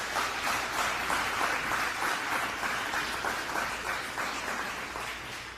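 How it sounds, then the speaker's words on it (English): An audience at a human rights celebration and awards ceremony applauds, a dense, steady wash of many hands clapping that fades slightly toward the end. "please give them a round of applause as they do"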